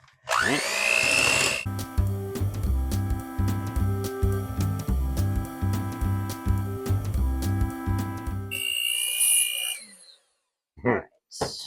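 Electric hand mixer beaters whirring through cake batter in a home kitchen, a steady motor drone with a rhythmic clatter as the beaters knock the bowl, loud and close, stopping abruptly before a few clinks.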